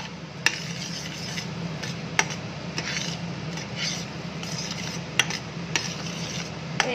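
A utensil scrapes and stirs steadily through a thick homemade milk chocolate mixture in a pan, with occasional sharp clicks against the metal and a low background hum.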